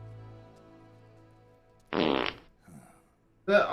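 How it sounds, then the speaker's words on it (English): In Metal Gear Solid 4: Guns of the Patriots, a comic fart noise comes in two loud blasts after a quiet stretch of low hum, with a brief murmur of voice between them. "damn fart noise"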